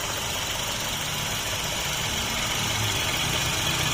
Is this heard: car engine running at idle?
yes